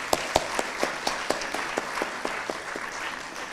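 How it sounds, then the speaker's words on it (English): A modest conference audience claps for a few seconds, a few loud individual claps punctuating the steady applause, which gradually thins out. "Please, another round of applause for Mr."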